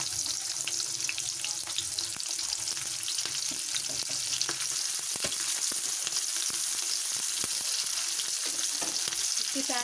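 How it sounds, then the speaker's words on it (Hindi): Chopped onion sizzles and crackles steadily in hot oil in a pan while chowmein is being made, with a close, continuous frying hiss and occasional stirring clatter. "देखिए ऑयल गरम हो गया है। ये प्याज मैंने एक ली थी, फिर डाल देते हैं।"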